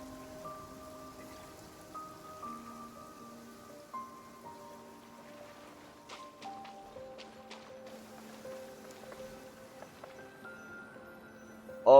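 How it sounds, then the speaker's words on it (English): Soft rain falls in the video game Genshin Impact, a faint steady patter beneath gentle melodic game music, with a short louder bump at the very end. "See? It's raining here."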